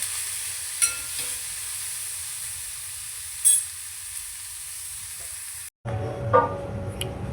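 Chopped onions and tomatoes cook in a pan with a steady low hiss and occasional soft stirring scrapes. After a brief cut, the sizzle returns louder and fuller.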